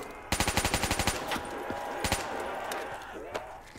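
Rapid automatic gunfire in Call of Duty zombies, an opening string of about ten evenly spaced loud shots followed by a couple of scattered single shots over a steady game background.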